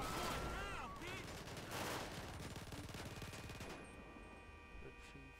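Gunfire in the video game GTA 5, played with a gamepad: a dense stream of rapid shots and bursts running loud throughout, thinning slightly near the end, with game sounds layered around it.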